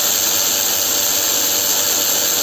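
A Keelat KRW003 long-reach brushless ratchet wrench runs continuously, giving a loud, steady high-pitched motor whir close up with no talking.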